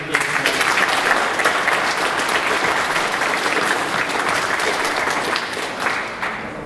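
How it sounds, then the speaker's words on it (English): A school open-day audience gives Martin Walcott a big round of applause, steady dense clapping from a large crowd that carries on throughout and eases slightly at the end. "So can I have a big round of applause?"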